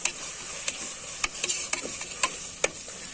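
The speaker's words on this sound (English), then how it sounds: "And I'm just adding it here and frying it together." A steady sizzle of mint leaves frying in a pan for egg biryani, with scattered clicks and taps of a utensil stirring close by.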